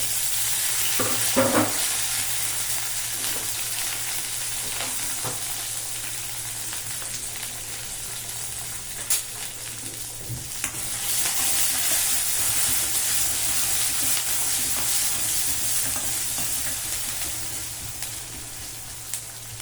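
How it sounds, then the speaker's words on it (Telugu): A steady, continuous sizzle of mustard seeds, onion and green chillies frying in oil in a pan, with scattered pops and scraping from stirring and a constant low hum underneath. "ఆవాలు చిట్టుపడిన తర్వాత ఉల్లిపాయ పచ్చిమిరపకాయలు కరుగుతాం"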